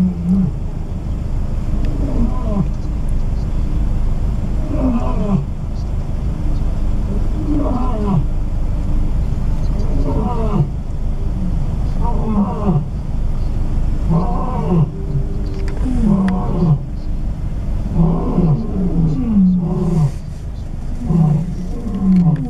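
Deep, repeated roaring calls from big cats, several overlapping in a rhythmic series, with a steady low rumble underneath throughout.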